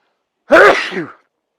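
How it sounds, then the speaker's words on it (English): One loud sneeze right up close, a sharp intake bursting into a spray of sound that trails off within a second, with nothing else around it. "Just sneeze."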